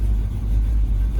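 A used LQ4 V8 swapped into a Miata runs with a loud, steady low rumble at close range, idling roughly with oil pressure low, while a voice talks over it.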